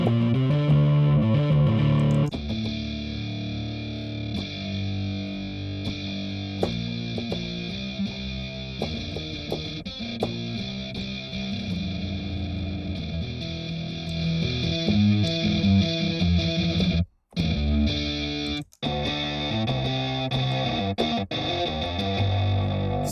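Heavily distorted, effected guitar-style tones run through amp cabinet simulator impulse responses, a continuous loud rock passage with chorus and echo colour, broken by two brief dropouts near the end.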